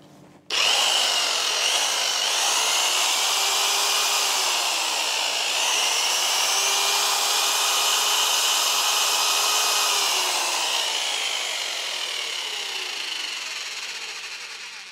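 A Braxter BT-135-SV concrete vibrator motor starts abruptly and runs with a steady high whine and buzz, close and loud, wavering slightly before easing off toward the end.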